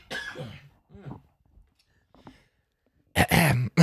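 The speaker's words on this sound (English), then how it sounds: "I've been fighting a little bit of a cough and trying not to get sick" Raspy throat clearing and rough, strained coughs from a man with a cough, in short bursts separated by pauses, ending with a harsher hacking cough nearby.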